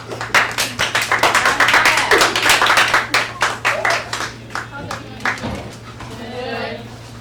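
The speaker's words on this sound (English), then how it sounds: "Give her a round of applause." A crowd claps loudly and steadily for several seconds, with a few cheers mixed in, before the applause thins out and fades.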